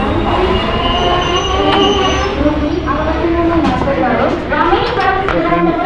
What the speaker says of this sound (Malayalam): നമ്മളിവിടെ വരെ കൊണ്ടുവിട്ട രാമേശ്വരം തിരുവനന്തപുരം വണ്ടി തിരുവനന്തപുരത്തെ ലക്ഷ്യമാക്കി പോവുകയാണ്